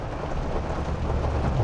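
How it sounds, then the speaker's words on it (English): Steady rain pours with a low rumble of thunder beneath it, a dense continuous wash of sound. "Hopefully it's a passing shower,"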